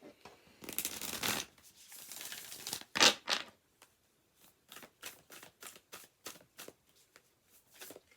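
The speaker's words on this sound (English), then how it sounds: "Let's go ahead and pull you an oracle card." Oracle cards are shuffled close up, starting with a long, dense riffle of crisp paper noise and followed by a string of quick, separate card flicks and slaps at an irregular rhythm.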